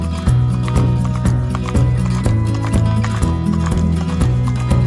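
Horses at a forest riding park clip-clop in a steady, even rhythm of close, loud hoof strikes over a bed of music.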